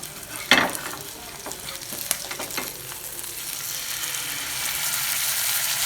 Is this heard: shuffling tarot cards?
no